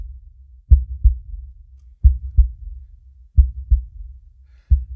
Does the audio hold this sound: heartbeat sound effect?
yes